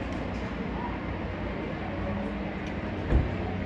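Steady low rumble of rolling Amtrak Auto Train cars carrying passenger vehicles, a continuous near drone with a brief thump near the end, no clear talking.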